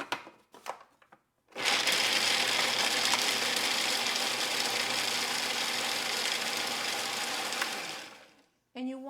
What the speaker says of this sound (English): And then we're going to process the walnuts.